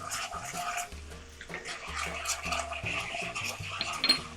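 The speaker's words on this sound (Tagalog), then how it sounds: "And stir nyo lang yan hanggang sa mag-melt na yung sugar." A spoon clinks and scrapes against a pan while sugar and soy sauce are stirred over garlic, with soft, irregular metallic taps and light rattles close by.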